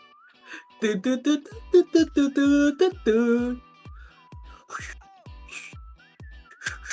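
The whistled hook of Maroon 5's "Moves like Jagger" plays as a clear, steady whistle tone over a thumping, punchy beat and bright synth stabs, loud and close throughout.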